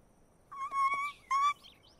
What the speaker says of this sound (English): it looks like your birds are back